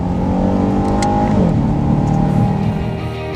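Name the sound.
2015 Chevy SS sedan accelerating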